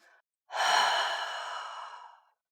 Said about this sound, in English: Take a slow, deep breath out.